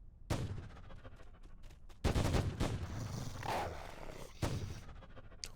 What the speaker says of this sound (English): Quite a powerful sounding weapon